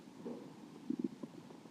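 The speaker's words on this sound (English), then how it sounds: "You probably just heard my stomach growl just a little bit there." A stomach growls during a quiet yoga session, a faint low gurgle followed by a short run of bubbly rumbles, close and alone.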